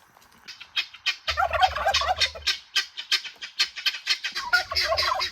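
Turkeys gobble loudly on a farm seen along a motorcycle ride from Pune to Ganpatipule, several rapid, warbling calls overlapping in bursts close by, with a low rumble underneath.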